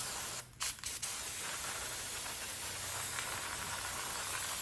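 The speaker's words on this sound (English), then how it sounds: "we want to wash these off with some brake clean" Brake cleaner sprayed onto Dodge Dakota brake parts: a loud, close, continuous aerosol hiss after a couple of short opening bursts, running steadily to the end.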